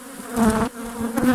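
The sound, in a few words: honeybee swarm buzzing around hive frames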